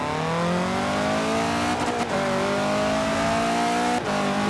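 A KTM X-Bow GT4 race car in Forza Horizon 4 revs loud and continuous, its engine note climbing steadily and dipping briefly at quick gear changes.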